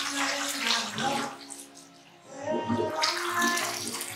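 Decorative waterfall in a model home refilling, a rushing, splashing flow of water that fades briefly midway then returns, heard fairly close at moderate level.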